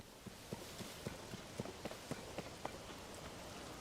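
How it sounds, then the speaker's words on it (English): Rain falls in Zelda: Tears of the Kingdom as a steady soft hiss, with a regular run of light hoof-like thuds under it, as if a horse is trotting through the downpour. "Can you not hear me because of the rain?"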